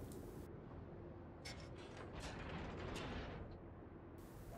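Warship guns fire in the World of Warships naval battle game, several heavy booms with rumbling crashes over a constant dense low roar, loud and close.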